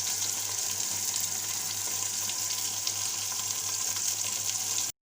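Onion, tomato and green chili fry steadily in a pan for a Desi white chana pulao, with a loud continuous sizzle close up and no talk, stopping abruptly at the end.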